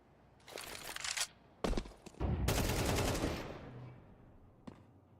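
Gunfire in a Counter-Strike match, several bursts of rapid automatic shots, one longer sustained spray in the middle, then fading tails and a faint final shot.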